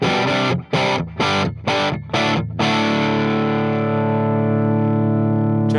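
Distorted electric guitar played through a Hughes & Kettner AmpMan amp pedal with sag switched off: a loud run of short, choppy chugged chords, then one chord left to ring out and slowly fade.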